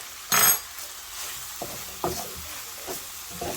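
Spoon stirring a spiced chicken samosa filling seasoned with ajwain and black pepper in a pan, a loud scrape followed by soft scattered clinks and light sizzling, close and brief.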